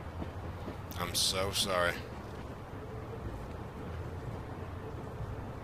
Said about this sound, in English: Hold on tight in case the train stops fast.